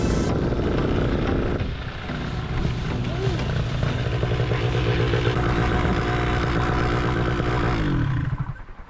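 Loud, steady propeller engine drone of a MacFly paramotor in flight, running continuously with a slight dip around two seconds before cutting off near the end, with voices faintly present.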